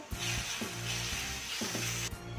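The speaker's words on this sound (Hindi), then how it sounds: "तो इन मसालों को डालकर एक बार फिर अच्छे से भून लेना है" Red chili powder and garam masala fry in a pan with a dense, close hiss broken by a few soft stirring scrapes, steady and fairly loud throughout a short stretch.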